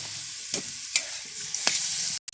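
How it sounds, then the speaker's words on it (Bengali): Soya chunks and vegetables stir-fried in a pan, a hissing sizzle broken by a few sharp scrapes of a spatula, close up, ending in a brief gap. "সয়াবিনগুলো ভালো করে কষিয়ে নিচ্ছি এরপর আমি সবজিগুলো সব ঢেলে দিচ্ছি দিয়ে ভালো করে কষিয়ে নিচ্ছি"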